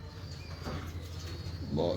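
Pigeons at a breeder's loft cooing softly in low repeated murmurs, close but faint, with someone talking over them.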